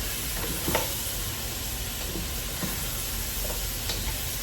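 Onions fry for a simple homemade lamb stew with a steady, loud sizzle and a few stirring scrapes throughout, no talking.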